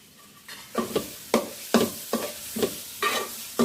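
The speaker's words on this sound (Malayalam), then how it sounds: "തൈര് ചേർത്ത് ഒന്ന് നന്നായിട്ടൊന്ന് മിക്സ് ചെയ്ത് കൊടുക്കണം" Thick yogurt is stirred into biryani masala in a pan with a steady rhythm of about eight wet, sloppy strokes against a faint background sizzle.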